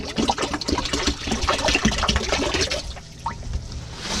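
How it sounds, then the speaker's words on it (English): Non-potable water pours steadily into an RV toilet in a box truck camper, a loud, close, continuous gush and splash that tapers into a brief trickle near the end. "get some non-potable water"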